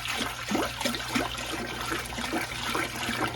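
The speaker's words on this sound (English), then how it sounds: "add the water and the apple juice and get it on the stove" A gallon of water and a gallon of apple juice pour into a pot on the stove for brine, a close, gurgling trickling stream with irregular splashes, moderately quiet and without talk.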